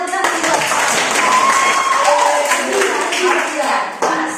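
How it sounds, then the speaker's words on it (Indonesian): Classroom applause after a student's presentation, a loud burst of clapping from many hands, close and dense, with voices talking over it and a brief dip near the end. "tepuk tangan buat"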